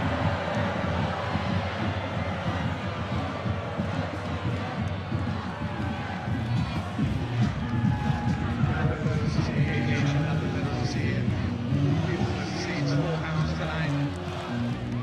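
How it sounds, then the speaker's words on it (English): A loud high school football crowd roars continuously in the stands before kickoff at a Battle of the Bay game, a dense, steady wash of noise with a commentator talking over it. "Kickoff has not even started and the crowd is with the game."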